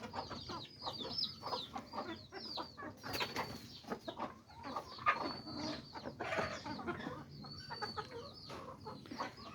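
A flock of farm chickens clucks busily and continuously while eating azolla, with overlapping nearby calls and soft pecking sounds.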